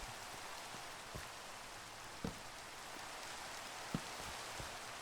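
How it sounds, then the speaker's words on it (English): Rain falling steadily in Minecraft, a constant hiss of downpour with a few louder drop-like clicks scattered through it, even and continuous with no speech. "can the rain stop, please?"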